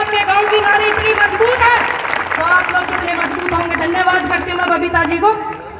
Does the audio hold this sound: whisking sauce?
no